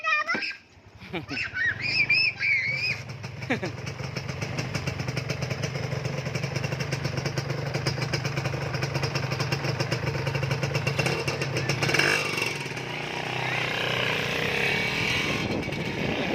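An LS 125 motorcycle starts up and rides off, its engine droning steadily and rising, while birds chirp at the start and a voice speaks.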